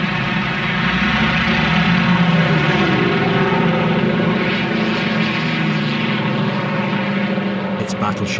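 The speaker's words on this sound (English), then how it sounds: "Wave after wave of Corsair and Sky Raider fighters attack the north." Corsair and Skyraider propeller fighters fly in waves over Korea, making a loud, continuous drone of piston engines that holds steady for the whole stretch, with a voice talking over it.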